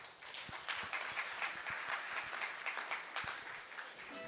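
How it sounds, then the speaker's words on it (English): Audience applause welcoming the Joe Sang Foundation chair, Gennaro Kibet, at a foundation event: steady, dense clapping from a sizable crowd, moderately loud and continuous throughout without speech. "Round of applause as we bring in the JSF, which is the Joe Sang Foundation Chair"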